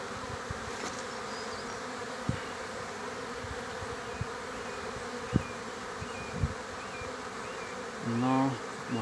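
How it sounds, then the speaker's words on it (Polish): Steady, continuous buzzing of many honeybees working acacia blossoms at small hives, with a few soft thumps and a brief louder hum near the end. "Jak tu pszczoły huczą."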